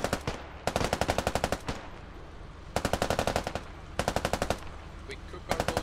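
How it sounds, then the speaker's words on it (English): Machine guns fire from pillboxes in the video game Squad, several long rapid bursts with pauses between them, heard from a distance and fairly loud. "MG's in the pillboxes up front, looking for things to shoot. And that's definitely happening at a distance here."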